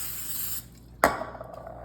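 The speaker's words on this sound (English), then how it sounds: "I'm gonna spray it with a little bit of Pam" Pam cooking spray misted onto a spatula for an Easter treat: a steady hiss for about half a second, then a sharp clack of the can or utensil with a brief ringing tail, close up.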